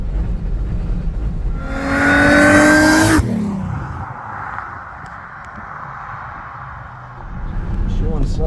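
A Holden Monaro CV6 revs up sharply with a rising engine whine, then drops back to a lower driving drone and builds again near the end, heard from inside the car.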